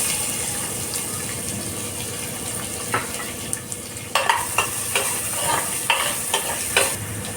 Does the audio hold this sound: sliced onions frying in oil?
yes